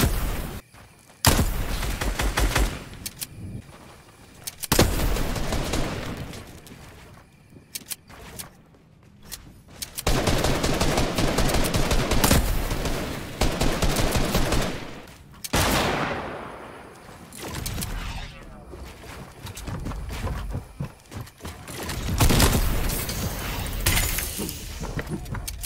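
Heavy video game gunfire from a Dragon Breath sniper rifle, with loud bursts, sharp cracks and booming blasts separated by quieter gaps and shifting intensity over a long stretch.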